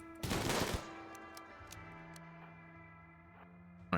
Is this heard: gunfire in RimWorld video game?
yes